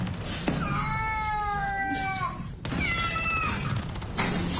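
Cat meowing in a multiplayer shooter game, several drawn-out, wavering meows close up over a steady din of game noise.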